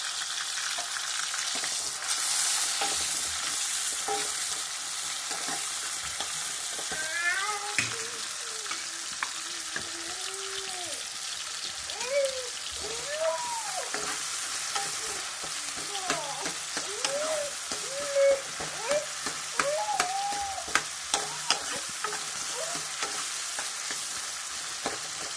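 Chopped onion and tomato fry in a pan for soy pepper fry, a steady close sizzle with clinking and scraping of a stirring spoon running throughout, no talk.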